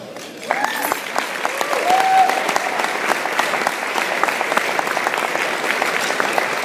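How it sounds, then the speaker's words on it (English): Steady, full audience applause for a keynote speaker at a CEO national conference, dense clapping holding level throughout, with a brief whistle and a voice briefly heard over it. "Give a big round of applause to Mr. Papa Giorgio, everybody."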